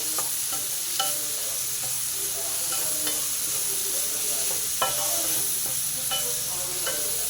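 Onions frying in oil in a pan with a little salt, a steady loud sizzle with periodic scraping stirs throughout, close up and alone without talk.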